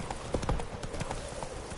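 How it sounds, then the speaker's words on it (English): Horse hooves gallop in The Witcher 3: Wild Hunt video game, a rapid close clip-clop rhythm of hoofbeats continuing steadily throughout. "Run, Roach"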